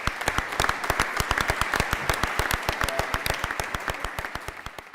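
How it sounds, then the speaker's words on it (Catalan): Audience at the official presentation of a tennis tournament at the Reial Club de Tenis Barcelona applauds Rafa, with distinct sharp claps in a quick rhythm over a steady wash of applause. "un aplaudiment per ell"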